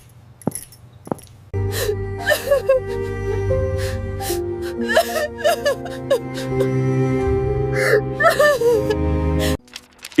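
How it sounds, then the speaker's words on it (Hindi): A young wife weeping in her room at night in a family home, with sobbing, gasps and whimpers rising and falling over a low sustained musical drone, fairly close and continuous. "इस वक्त बहू के कमरे से रोने की आवाज आ रही है।"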